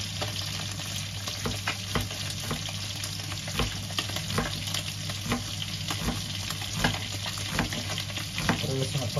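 Onion fries in a pan with a steady, dense sizzle, punctuated by frequent small clicks and scrapes of stirring, close up and without talk.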